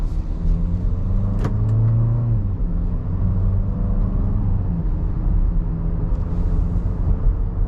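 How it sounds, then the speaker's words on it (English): A 2025 Nissan Murano pulls away and drives off, its engine and road noise a steady low rumble with a rising tone as it accelerates, close and continuous, with no talk. "Put her down into drive and see what this Murano is like to drive."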